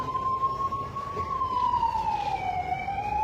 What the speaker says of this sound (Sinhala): ඔය ඇම්බියුලන්ස් එකක් නේ දෙන්නේ එක